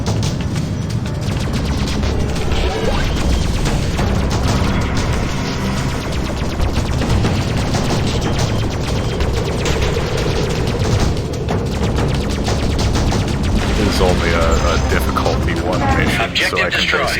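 Spaceship turret fire and combat noise in the Freelancer space game, a constant dense wash of blasts and booms running the whole time, loud and unbroken, with someone talking over it.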